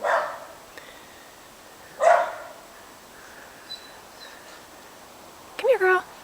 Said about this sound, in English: Why is that dog barking at you?